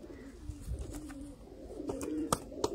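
A Baga pigeon from Sialkot, Pakistan, coos softly while being held in the hand, low throaty calls repeating close by amid light handling rustles and faint background sounds.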